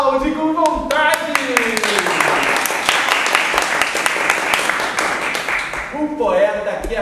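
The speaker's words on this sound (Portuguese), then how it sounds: "caiu na graça do povo, que aplaude com vontade" An audience at a clown-poet performance bursts into enthusiastic applause, dense sustained clapping that swells in the middle, with cheering voices rising at the start and again near the end.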